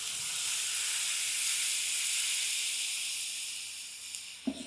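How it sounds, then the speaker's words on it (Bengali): Water poured onto fried potatoes in a pan sends up a loud, steady steam hiss that holds almost throughout, then trails off with a couple of faint knocks at the end. "আলু আমার ভাজা হয়ে গেছে। এবার এর মধ্যে আমি জল দিয়ে দেবো।"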